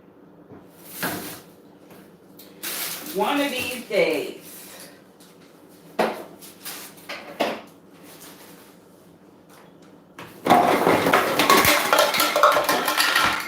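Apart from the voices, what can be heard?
old kitchen cupboard clinking and rattling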